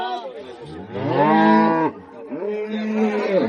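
Cattle at a village cattle market in Raniganj, with a loud nearby cow lowing twice in long, drawn-out moos, the second slightly shorter, with no other voices.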